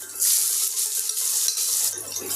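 Two large chopped onions hit a hot pan with curry leaves for masala poha and sizzle loudly while being stirred, a brief burst of frying with quick rhythmic scraping.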